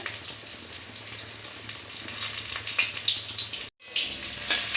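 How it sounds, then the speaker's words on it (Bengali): Pointed gourd (potol) pieces frying in oil in a pan for a Bengali aloo-potol-shrimp dish, a steady close hiss and crackle running throughout with a brief break near the end. "এবার আমরা ভেজে নেব পটলগুলো"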